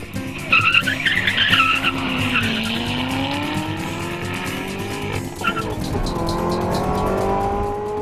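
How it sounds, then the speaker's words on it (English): A Corvette ZR1 accelerating at over 130 miles per hour during a mile race, its engine note climbing steadily with tire noise and wind roar, loud and close throughout with no one talking. "he's gunning the ZR1 past 130 miles per hour and loving it"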